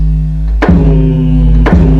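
Two sustained 808 bass notes hit in a hip-hop beat, each a deep, booming tone that holds steady with a sharp attack at the start, loud and alone with no talking.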